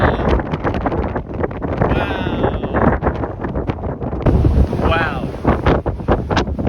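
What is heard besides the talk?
strong synoptic wind gusts during high wind event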